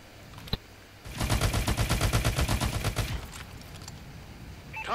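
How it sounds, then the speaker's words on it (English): Rapid automatic gunfire from an attracting gun in a video game, a dense burst of evenly spaced shots lasting about two seconds after a single sharp click, loud and close with no talk over it. "This is the attracting gun."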